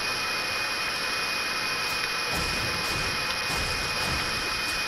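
A video game helicopter whines and hums steadily up close, a sustained turbine drone with a high tonal whistle and a rougher low rumble joining partway through.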